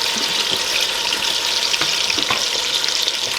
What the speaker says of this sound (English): I'm gonna saute that. I'm gonna add me some red pepper and onions.